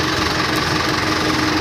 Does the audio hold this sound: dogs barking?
no